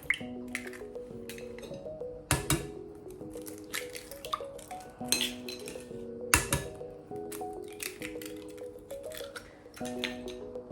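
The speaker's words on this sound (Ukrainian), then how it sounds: "Вбиваємо яйця." Eggs are cracked into a bowl for a Swabian bacon and onion pie filling: a series of sharp close taps and cracks, followed by wet squishy drips as the contents fall, in a quiet room.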